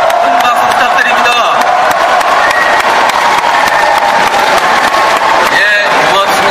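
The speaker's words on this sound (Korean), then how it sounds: "박수 부탁드립니다" Crowd applauding at a Seoul political campaign rally: a dense, loud, continuous wash of clapping and cheering that holds steady for several seconds, with voices mixed into the noise.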